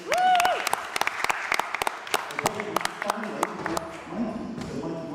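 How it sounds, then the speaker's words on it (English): An audience gives a round of applause at a presentation event, a burst of claps with sharp taps and a tonal ping, fairly close, with speech overlapping. "More round of applause."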